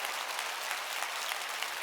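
A church congregation claps hard at a worship service, producing a loud, continuous roar of many hands slapping together for nearly two seconds, with a brief bump at the very end.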